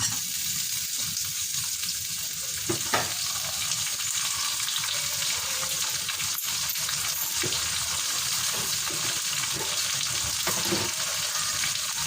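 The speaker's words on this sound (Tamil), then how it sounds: "இந்த வெங்காயம் பூண்டு ரெண்டும் வதங்கிடுச்சு எண்ணெயில்" Onion and garlic frying in oil in a pan, giving a steady, close sizzle that holds evenly for the whole stretch, with a few brief clicks and stirs and no voices.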